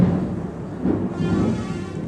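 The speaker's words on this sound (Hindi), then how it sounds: "अभी बादल का आवाज़ आ रहा होगा, बादल गरज रहा है" Thunder from storm clouds rumbles low and steady, fairly loud, with no speech over it.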